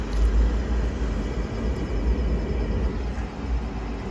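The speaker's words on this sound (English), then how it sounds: "The inducer motor, the blower motor is on." A Pentair pool heater running after ignition, its inducer and blower motors producing a loud, steady low roar and broadband whoosh outdoors, with a pool pump also running nearby.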